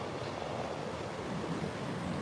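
Ocean waves and wind at a San Diego beach make a steady, broad wash of surf noise with no breaks, a continuous roar heard alone without any voices.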